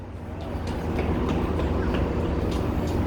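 A passing MARC commuter train rumbles and rolls steadily close by, its broadband roar with faint rail clicks building slightly and holding loud for about three seconds, with no talk over it.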